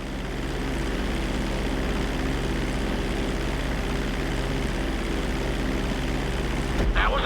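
Steady propeller airplane engine drone in flight in GTA V, loud and continuous throughout, with a brief clatter near the end.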